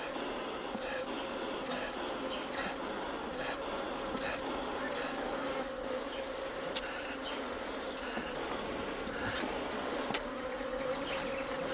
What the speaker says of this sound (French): mais ces abeilles sont vraiment... Elles me font vraiment très peur.